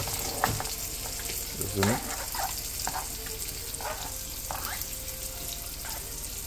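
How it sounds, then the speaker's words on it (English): Onion fries in a pot with a steady, fairly loud sizzle broken by a few scraping stirs, and one short spoken word comes in near the start. "throw up my onion and everything in my pot"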